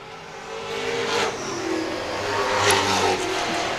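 Late model race cars roar down the front straight at Star Speedway during a 50-lap feature, engines loud and close and sweeping past in a sustained, rising rush with no talk.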